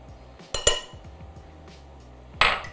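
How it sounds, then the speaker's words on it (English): Eggs are stirred into a soy-milk and apple-cider-vinegar buttermilk batter in a bowl. There are a couple of bright metallic clinks and taps of the utensil against the bowl, in two short clusters over quiet background. "Give that a quick stir, get everything combined and incorporated"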